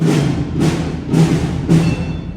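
A middle school band's percussion section, with mallet percussion, snare drum and bass drum, plays together in a steady pulse, with four strong drum hits landing at even intervals over sustained pitched tones.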